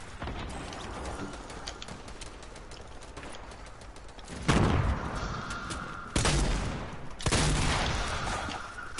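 Gunfire in the video game Fortnite, with a steady rattle of distant shots under game ambience and several louder, nearer bursts in the second half.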